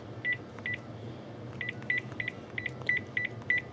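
Touch-tone DTMF dialing on a phone connected to a home PBX server: about ten short, crisp two-tone beeps in a quick, uneven sequence, close and clear over a low steady hum.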